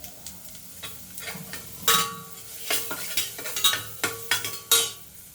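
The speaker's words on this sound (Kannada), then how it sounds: "ಕ್ಯಾರೆಟ್ ಹಾಕಿ ಒಂದು ಸ್ವಲ್ಪ ಬಾಡಿಸ್ತೀನಿ." Carrots are stirred in a pan of hot tempering with mustard seeds, curry leaves and dried red chillies, giving a soft sizzle under repeated close scrapes and clinks of a spoon against the pan.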